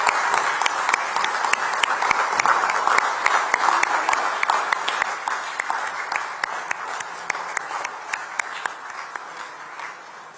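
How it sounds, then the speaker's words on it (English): A large audience applauds to welcome dignitaries at the inauguration of a Tech Mahindra digital delivery center in Nagpur, sustained dense clapping with crisp individual hand claps standing out, gradually thinning over ten seconds. "let's please welcome our dignitaries with a huge round of applause."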